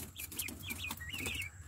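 Pet chickens cluck and give short rising calls at feeding time in a rural yard, several quick bursts close by against a low steady background.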